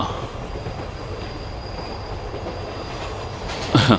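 A moving train in a film scene rumbles steadily with a low rolling drone, ending in a brief high wheel squeal.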